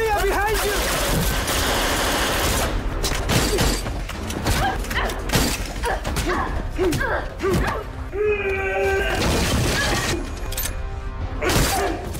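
Gunfire in an action film, bursts of shots with thuds and impacts mixed with loud voices and other crashes, dense and close.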